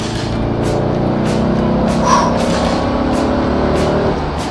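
2007 Audi RS4 B7 engine with the S button engaged, a steady, loud rumbling drone heard from inside the moving car, with a few faint ticks and a brief chirp midway.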